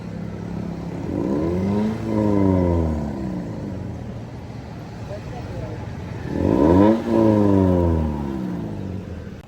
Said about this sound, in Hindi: स्टार्ट हो गई है, रेस दो, लाइटें भी चलाएं।